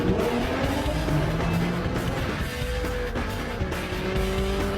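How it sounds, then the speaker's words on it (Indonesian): A racing car slides through a skid, its rear end stepping out while the tires squeal in long rising and falling tones over a loud, steady engine roar, close and continuous throughout. "Kurangi tekanan gasmu, nanti belakang mobil tergelincir."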